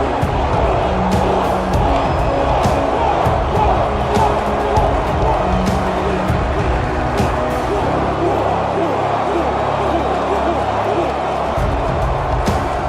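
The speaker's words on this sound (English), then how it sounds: "rallying this crowd into a frenzy" A hyped arena crowd in the WWE 2K22 wrestling game, set in a Las Vegas ballroom, roars steadily for nearly thirteen seconds while a commentator talks over it and sharp slams and thuds punctuate the din.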